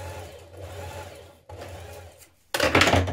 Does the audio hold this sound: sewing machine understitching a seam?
yes